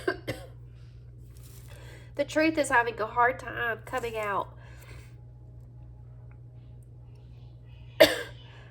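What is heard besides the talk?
coughing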